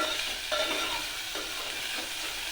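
Ground masala frying in hot oil for a sprouted horse gram sambar, a steady dense sizzle with a few soft stirring scrapes, close and continuous with no talking.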